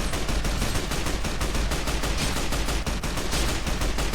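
An All-American rifle fires armor-piercing rounds in Fallout: New Vegas, a close, loud, rapid string of evenly spaced shots carrying on without pause.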